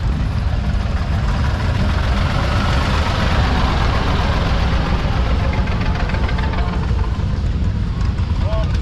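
Old tractor engines idle at a vintage tractor rally in Wilkowice, a steady, dense low rumble that fills the scene continuously, with someone talking over it nearby.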